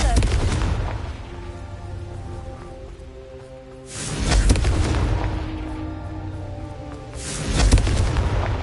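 Booming spell blasts from Confringo in the Hogwarts Legacy game: two heavy explosive bursts about three seconds apart, loud and close, each rolling into a low rumbling tail over a steady background din.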